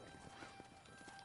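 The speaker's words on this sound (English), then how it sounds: "I hear the hooves." Horse hooves clip-clopping in the video game Red Dead Redemption 2, a steady soft patter of beats under dense game ambience, moderately close with faint voice-like sounds in the mix.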